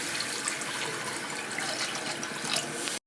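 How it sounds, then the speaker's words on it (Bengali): Hot water is poured into a pressure cooker holding braised mutton for a thin desi mutton curry, making a steady, close rushing splash that runs evenly for about three seconds and then stops abruptly. "গরম জলটা দিয়ে দিচ্ছি"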